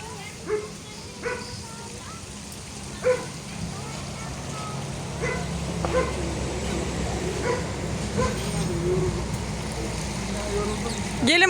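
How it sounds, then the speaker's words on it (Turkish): A dog barks a handful of times at some distance at a zoo, the barks spaced irregularly over steady background noise like light rain. "o köpek hala size bağırıyor galiba"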